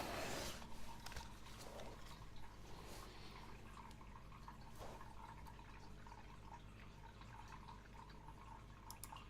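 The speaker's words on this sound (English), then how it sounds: "The water you may hear in the background is my fish tank." A home fish tank keeps up a low, constant trickle and bubble of running water, with soft drips and splashes in the background. The sound is faint and even, and nobody speaks.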